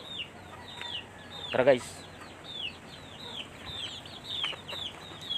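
Chickens cluck and chirp repeatedly at feeding time in the early-morning countryside, their short calls scattered around over a low ambient hum, with a brief spoken phrase from a person in the middle.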